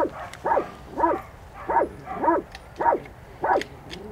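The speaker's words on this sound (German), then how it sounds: "Ja, der Hund gibt laut, da ist definitiv was." Hunting dogs bark at a fox den during a den hunt, seven evenly spaced, somewhat muffled barks about half a second apart, moderately loud against a quiet outdoor background with no talking.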